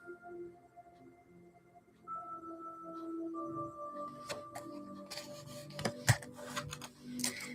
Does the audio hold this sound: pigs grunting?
no